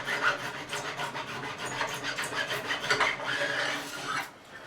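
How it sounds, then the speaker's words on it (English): A fine metal file beveling the fret ends along a Telecaster neck during a refret, giving steady close rasping strokes in a continuous rhythm that fade out at the end. "this file is that fine, it almost polishes. But we're creating that bevel now."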